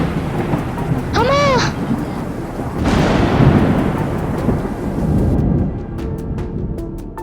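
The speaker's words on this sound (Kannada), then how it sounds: "ಅಯ್ಯೋ ಗುಡುಗು, ಮಳೆ ಬರೋಕಿದೆ, ಮನೆಗೆ ಹೊರಟೋಗೋಣ." Thunder rolls loud and low through steady rain in the open, with a cat's brief meow heard early on.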